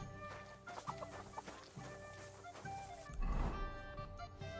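Chickens clucking in the medieval video game Kingdom Come Deliverance 2, several birds giving steady, busy clucks over a dense game soundtrack and ambience, with a louder burst near the end.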